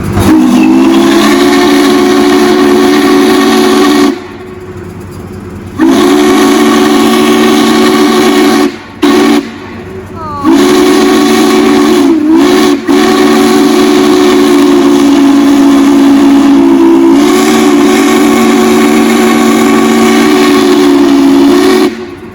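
Norfolk & Western 611 steam locomotive whistle sounds loud and close in long sustained blasts separated by brief pauses, with steam hiss between and around them; no voices.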